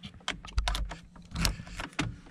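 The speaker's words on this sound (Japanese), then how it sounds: "鍵差します。" Metal key jingling and scraping as it is pushed into the ignition of a Lotus Evora GT 410 Sport, a few close, sharp clicks and rattles inside the quiet cabin.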